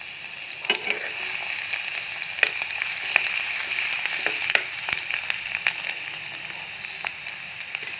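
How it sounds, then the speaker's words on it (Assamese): Crushed ginger and garlic fry in hot mustard oil in a wok, a continuous close sizzle dotted with frequent sharp crackles and pops. "আদা নহৰুখিনি অলপ ৰঙচুৱা হোৱাকৈ ভাজি ল'ম"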